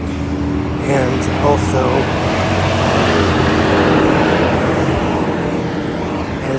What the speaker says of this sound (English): that very rude truck drives by